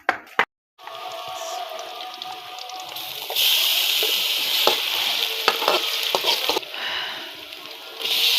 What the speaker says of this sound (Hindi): तो अब हम ये प्याज को भुनने लगा रहे हैं